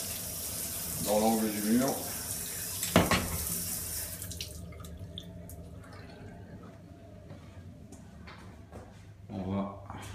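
Water sprayed from a hose into the corner of a wall during a leak test, a hissing splash under someone speaking French, fading to a quieter trickle.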